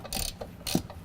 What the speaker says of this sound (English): So now I'm going to use a 16mm and tighten down our top 3 strut mounts locations.